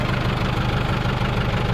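Tractor engine at full throttle, a loud, steady, close mechanical drone with a rapid pulsing knock throughout a short stretch.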